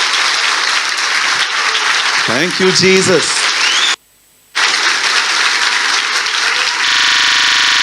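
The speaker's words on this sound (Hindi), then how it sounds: "आइए हम प्रभु के लिए जोरदार ताली बजाएं।" A church congregation claps loudly together during a sermon, a dense sustained roar of applause with a brief sung or shouted phrase over it and a short break in the middle.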